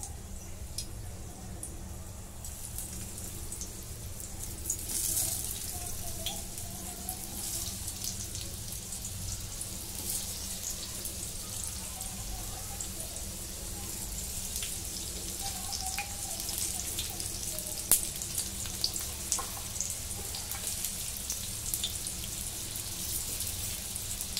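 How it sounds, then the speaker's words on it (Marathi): Taro leaf rolls (alu vadi) frying in hot oil in a pan: a faint, continuous sizzle with scattered soft crackles, heard alone without voices. "आता या तव्यामध्ये मी तेल ओतून घेतलेलं आहे. तेल गरम झाले. आता वड्या सोडून घेते."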